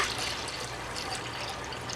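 Fruit wine poured into a bowl for a second ferment, a continuous close splashing trickle of liquid, steady throughout with no talk.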